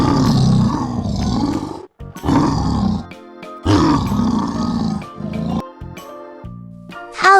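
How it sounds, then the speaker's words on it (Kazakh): A lion at a zoo roars in several loud, deep, rasping bursts, each lasting over a second, separated by short pauses, close and with no voices. "Бұл арыстан. Арыстан ақырады."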